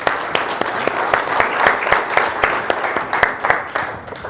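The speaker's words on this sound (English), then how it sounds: "please give him a round of applause" An audience applauds to welcome a guest onto a stage, a steady dense patter of many hands clapping at moderate distance, fading slightly at the end.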